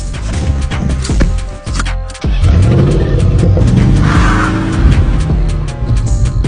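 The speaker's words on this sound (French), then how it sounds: "Les braqueurs de banque s'engagent dans une course-poursuite avec la police." Car chase with bank robbers fleeing police: loud engines roar and tires screech continuously, with a brief drop-out before the skidding resumes at full intensity.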